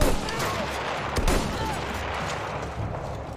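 Gunfire in the WWI shooter Battlefield 1, a loud burst of rapid shots and booming impacts over a dense battlefield din, close and sharp at first, then rolling on under continuous noise.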